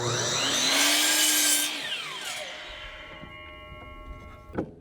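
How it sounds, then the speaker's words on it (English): A chop saw cutting in a workshop during an Alaskan spring: a loud, high whining cut runs for about a second and a half, then the blade spins down with a falling tone, and a short knock follows near the end. "I got this chop saw I'm using right now."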